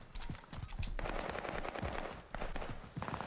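AK rifle fire in Warzone on the Caldera map rattles in quick, uneven bursts, moderately distant and faint, mixed with other game sounds.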